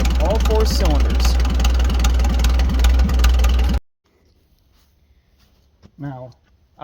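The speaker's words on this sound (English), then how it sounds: "So as you can hear, the tractor is running way better. We have all 4 cylinders." A 1940 Farmall H four-cylinder tractor engine runs loud and steady at idle for several seconds, then cuts off abruptly, leaving near silence broken by a brief burst of talk.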